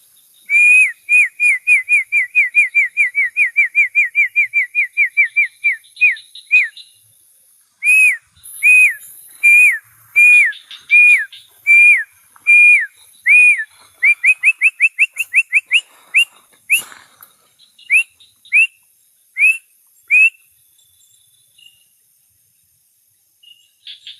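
A series of shrill, rising whistled notes, first in a rapid run, then in spaced pairs and short bursts, loud and clear with no talking.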